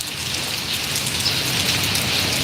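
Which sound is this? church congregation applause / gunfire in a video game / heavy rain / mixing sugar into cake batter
heavy rain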